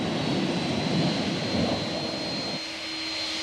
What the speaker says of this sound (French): les avions peinent à rejoindre la zone de décollage